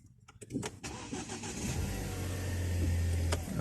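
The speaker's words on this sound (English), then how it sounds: "Car starts." A 2013 Ford Focus ST with a proximity key cranks over after a few soft clicks, catches, and settles into a steady, close idle hum with no one talking.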